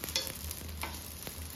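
Idli pieces being stirred in a sizzling masala tadka on a tawa, giving a steady close frying hiss with soft scraping strokes and a few louder stirring clatters, no talk.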